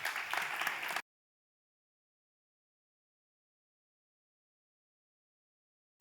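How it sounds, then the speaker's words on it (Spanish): Conference audience applauding for a speaker, a dense burst of clapping lasting about a second before cutting to silence. "Un aplauso para Santos"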